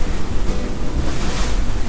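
Heavy ocean waves and strong wind at sea aboard a sailing boat in rough conditions, a loud, steady roar of surf and wind buffeting the microphone with no pauses.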